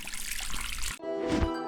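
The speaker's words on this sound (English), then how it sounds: "pressing a switch on the toilet as water suddenly sprayed out of the bowl" A toilet bidet seat sprays water out of the bowl, heard as a steady hissing spray that cuts off abruptly and then returns with a brief splashing gush near the end, close and fairly loud.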